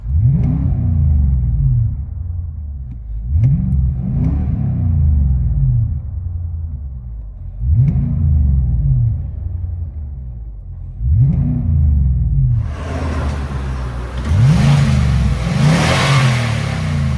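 A 2018 Nissan Armada 5.6L V8 with a Flowmaster Super 10 exhaust revs repeatedly, heard from inside the cabin, five or so rumbling throttle blips with a louder roaring stretch at the end.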